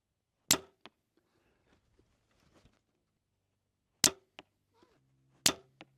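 Three sharp bow shots from a compound bow fired with a release trigger during practice before a hunt, each a crisp snap with a short thud following, spaced a few seconds apart in a quiet setting.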